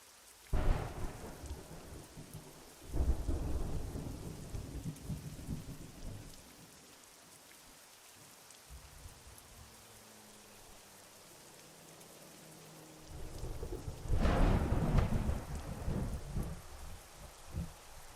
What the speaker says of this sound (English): The sound of the rain is so nice.